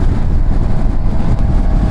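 Wind buffets the microphone of a rider on a 2026 QJMOTOR SRK 421 RR motorcycle in gusty morning weather, a loud, steady, low roar with no break.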